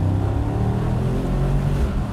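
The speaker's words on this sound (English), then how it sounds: "And then there's just the noise of this car in second gear," A 2023 Mercedes-AMG SL 63 engine roars at wide-open throttle in second gear, a loud, dense, continuous growl heard close up for a couple of seconds with no speech.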